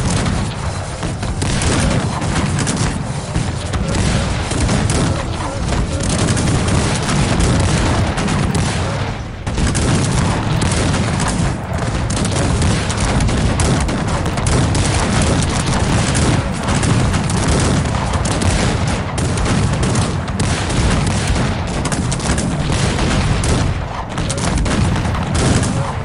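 Cannon blasts and gunfire from a Cossacks 3 strategy battle, a dense, continuous fusillade of booms and musket volleys filling the whole stretch with hardly a pause, loud and unbroken.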